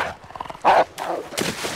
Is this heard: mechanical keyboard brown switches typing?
no